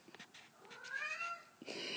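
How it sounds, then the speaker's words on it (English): A cat gives a single drawn-out meow that rises and falls, then a shorter second cry right after, heard close and clear against a quiet indoor room. "There's the cat."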